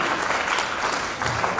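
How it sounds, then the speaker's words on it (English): A hall audience at a career guidance function applauds to welcome the chief guest, a short burst of steady, even clapping at moderate distance. "Please give a big round of applause."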